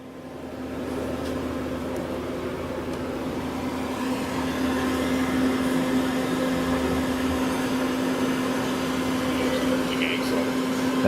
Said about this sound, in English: Now we'll do the C-axis on the main spindle.